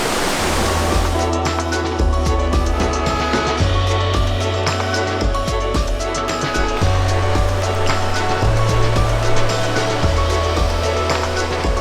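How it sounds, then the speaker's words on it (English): Waterfall near La Fortuna, Costa Rica, a loud continuous rushing roar of falling water that fills the whole clip steadily, with no voices over it. "Yeah, there's also a waterfall here."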